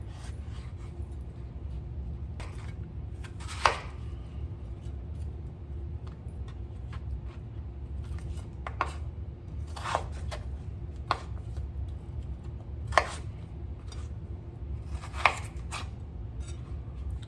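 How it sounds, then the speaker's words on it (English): Knife chopping potatoes for clam chowder on a board, scattered single cuts at uneven intervals over a low steady hum, fairly faint and close. "I'm going to go ahead and cut up my potatoes and set it aside"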